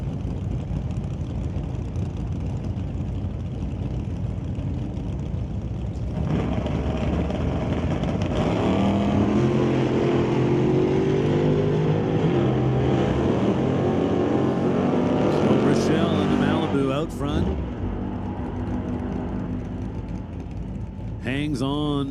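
Drag race cars, including a 1969 Mercury Cougar, roaring down the strip at Mission Raceway Park, a sustained loud engine drone throughout, with a track announcer talking over it.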